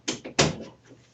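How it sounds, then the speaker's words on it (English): A door swings shut indoors, two quick knocking thuds followed by a sharper latching bang, close by and brief, then quiet room tone. "Let me close the door."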